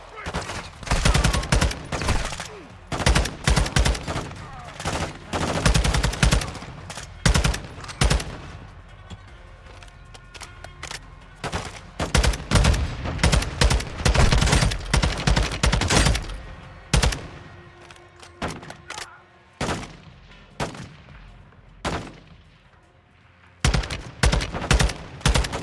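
Dense video game shootout gunfire with bursts and rapid volleys of shots, loud and near, continuing almost nonstop with a brief lull before more firing.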